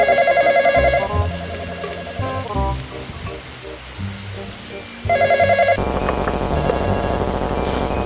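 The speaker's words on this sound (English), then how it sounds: "Oh, phone." In the game Midnight Train, a telephone rings in loud repeating electronic trills, breaks off, then rings again, with rain-like background hiss and a game soundtrack underneath.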